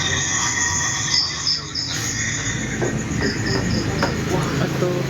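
A freight train passes nearby with a continuous loud rumbling roar of rolling wagons and faint high squeals, steady throughout the clip.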